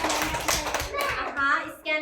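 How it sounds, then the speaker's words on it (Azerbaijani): Young children in a classroom clap for a classmate in a few quick, uneven bursts of handclaps, close by and mixed with children's voices and chatter. "Aylin alqışlayaq"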